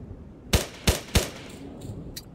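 Three sharp gunshots ring out in quick succession in a tactical shooter game, each a loud punchy crack with a brief tail, followed by a couple of fainter distant reports.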